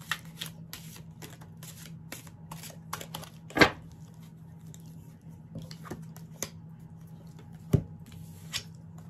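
Crow tarot cards being shuffled by hand, a steady run of soft papery riffles and flicks with two sharper slaps, close and fairly quiet over a low steady hum.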